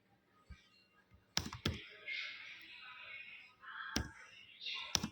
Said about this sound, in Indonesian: untuk mencarinya kita ketik di command window-nya